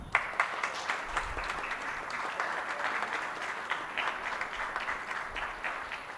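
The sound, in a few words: audience applause for panelist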